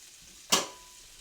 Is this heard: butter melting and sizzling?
yes